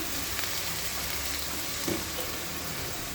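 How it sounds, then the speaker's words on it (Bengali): Ginger and garlic paste with spices frying in a pan while being stirred, a soft continuous sizzle and hiss with an occasional faint scrape of the spoon. "এবার ভালো করে মিক্স করে ভেজে নিচ্ছি মশলাগুলো"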